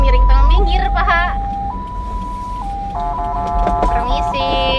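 An ambulance siren wails from the vehicle while driving on the road, a loud electronic tone stepping between pitches with long held notes, under engine hum and some background voices.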